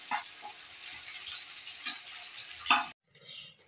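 Whole spices, cardamom pods and cinnamon, frying in hot oil beside onions for chicken biryani, a close, dense, steady sizzle with faint crackles that cuts off abruptly near the end, leaving quieter residual sound.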